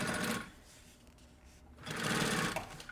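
A sewing machine stitches a puffer backpack in two short bursts, running over an earlier seam. The motor whirs loudly and close, with a quieter pause between the bursts.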